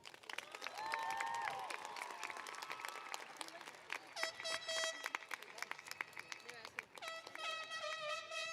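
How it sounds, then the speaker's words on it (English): Graduation audience at a Rome High School ceremony applauding the teachers, steady dense clapping with some cheering carrying on for several seconds while music or tones play over it. "Please join me in giving these teachers a well-deserved round of applause."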